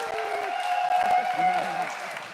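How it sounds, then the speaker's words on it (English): Audience applause at a live award ceremony for a classic Corvette and Cadillac CTS-V giveaway, a moderate spread of clapping carried under a sustained tonal hum and a nearby voice speaking. "Big round of applause."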